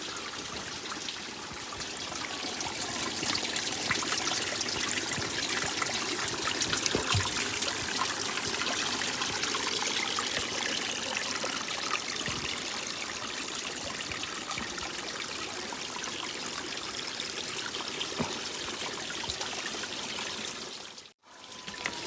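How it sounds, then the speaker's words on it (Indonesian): Spring water trickling and pouring steadily at a collection point beside a hiking trail near Danau Kumbang on Gunung Masurai, a close, continuous splashing stream with a brief gap near the end. "Kita sekarang ambil air."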